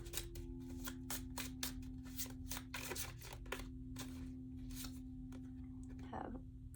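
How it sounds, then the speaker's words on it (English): Oracle cards shuffled for a tarot reading, a rapid series of soft riffling and slapping card sounds in quick succession, close but quiet over a low steady hum, ending with a brief slide. "And then we're just going to get a couple of oracle cards"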